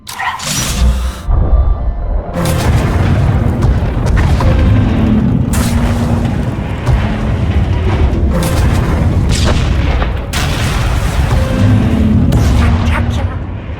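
Weapon fire and explosions in the Star Wars: The Old Republic video game, heavy booming blasts rolling one after another with bursts of debris, loud and close under game music and sound.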